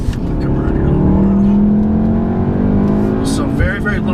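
2017 VW Golf R with a 6-speed manual driven hard in race mode, its engine loud and close, revving with rising pitch and a brief shift near the end while a person talks over it.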